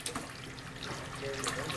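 Hot water runs steadily from a tap in an RV after a Furrion tankless water heater ignites, a soft, even hiss of flowing water close by with no voices.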